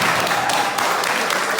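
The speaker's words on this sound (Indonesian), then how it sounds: "Boleh tepuk tangan dulu untuk Silva." Classmates give a round of applause for Silva during a group presentation, a short, steady burst of many hands clapping together, fairly loud and close.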